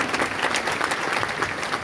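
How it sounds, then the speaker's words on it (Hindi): Audience applause at a Delhi workshop event, a dense, steady wash of clapping from a crowd that holds evenly loud and close throughout, with no speech over it. "तो सभी के लिए एक बार फिर से जोरदार तालियां हो जाएं"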